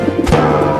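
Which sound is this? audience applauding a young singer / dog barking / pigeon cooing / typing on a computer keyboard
pigeon cooing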